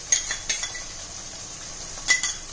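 Ginger garlic paste and spices frying in oil on low heat for Rajasthani gatte ki sabzi, a faint sizzle under a few metal spoon clinks and scrapes against the pan, no one speaking.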